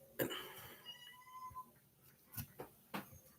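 A kitten meowing outside a door, several faint short mews and a few sharper cries spread irregularly through a quiet indoor room, with no talk.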